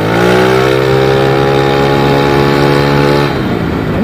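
A Yamaha Lexi 155cc race scooter fitted with an aftermarket exhaust revs loudly up close, its engine holding a high, steady drone before dropping back toward idle near the end.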